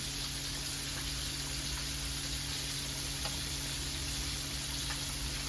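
Steady crackling sizzle of flounder frying in hot oil, close and continuous, with occasional faint pops and a low background hum.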